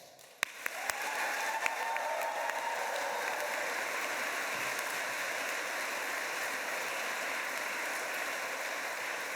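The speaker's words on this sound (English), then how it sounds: "Well, clearly, by the sound of that applause." Sustained applause from a ceremony audience honoring faculty academic and support staff, a dense, steady wash of many hands clapping after a few sharp opening claps, continuing evenly without talk.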